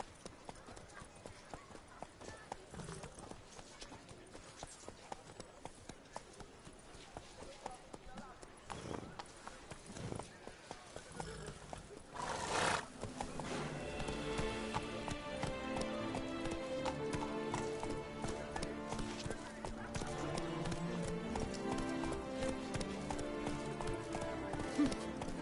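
Roach, Geralt's horse in The Witcher 3, gallops with steady rapid hoofbeats that start faint under spoken dialogue and music, then grow louder and denser over a swelling musical score for the second half.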